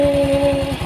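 A Honda Revo fuel-injected motorcycle engine idles steadily with a smooth, even hum and a faint pulsing low rumble, close and continuous.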